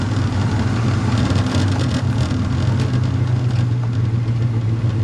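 A 1964 Pontiac GTO with its 389 V8 running, a loud, steady low engine drone heard from inside the car during a test drive, with no voices over it.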